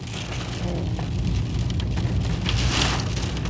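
Heavy rain drums steadily on a car at night on an Italian mountain road, a dense continuous hiss with low road rumble beneath and no voices.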